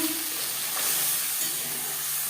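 Two large tomatoes hit hot oil with fried panch phoron and set off a loud, steady sizzle and hiss that carries on unbroken, with no talking over it.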